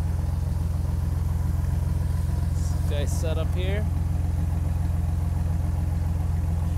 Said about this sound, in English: That's why the exhaust is so loud.